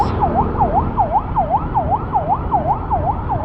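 Ambulance siren in traffic, a rapid repeating wail, loud and close, over low road and engine rumble.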